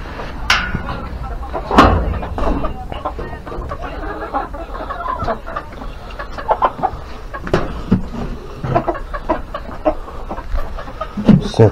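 A chicken clucks as it steps out of a coop on a small farmstead, irregular close clucks mixed with knocks and rustling, with a person talking at times.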